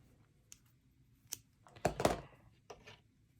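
Addi or Sentro knitting machine being cranked, giving sparse light clicks and a brief louder clattering rattle in the middle, close and otherwise quiet.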